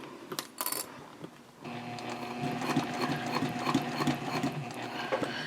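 A sewing machine bastes a backpack seam with a long stitch, slow and uneven: a few sharp clicks at first, then a rattling, ticking run of stitching at moderate level, no speech.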